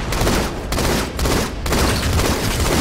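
Dense, loud gunfire roars in a video game battle, continuous overlapping volleys broken by two brief pauses, with no talking.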